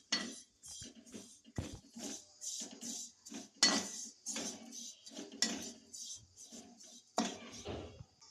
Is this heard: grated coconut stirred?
yes